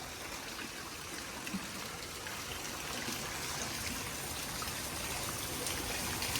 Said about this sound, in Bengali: দেখুন পুরো রাস্তাঘাটে জল হয়ে গেছে